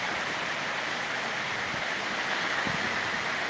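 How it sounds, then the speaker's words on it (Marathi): Steady, dense downpour of heavy rain in Wai taluka, a continuous broadband hiss with no pauses, close and loud throughout. "बाहेर जबरदस्त पाऊस आता तुफान पाऊस चालू झालेला आहे"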